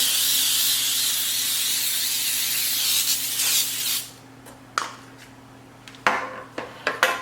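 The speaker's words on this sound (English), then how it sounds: "so we're just going to spray our baking sheet" A steady hiss of cooking spray onto a baking sheet runs for about four seconds, then stops, followed by a few light clicks and clatters of the metal pan.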